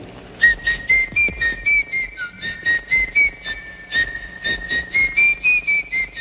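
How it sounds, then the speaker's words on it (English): A person whistles a lilting tune near and clear, the notes coming in short rhythmic phrases with small breathy gaps between them. "Can you whistle?"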